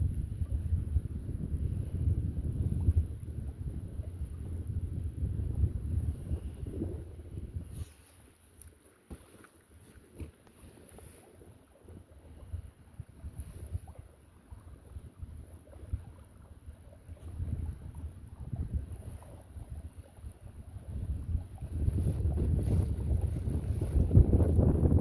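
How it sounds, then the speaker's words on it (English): Gusting wind roars against the microphone while riding an electric kayak on open water, loud buffeting that eases in the middle and then builds strongly again. "Wind is actually picking up."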